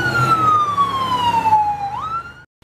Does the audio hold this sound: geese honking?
no